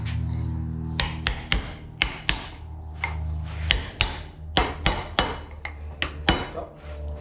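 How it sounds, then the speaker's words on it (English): Light, small taps of a hammer on a nylon block set on top of a vehicle's front knuckle during a brake rebuild, about a dozen sharp, close knocks spaced irregularly over a low steady background hum. "get your block, just a nylon block, sit that on top, and just give it some light,"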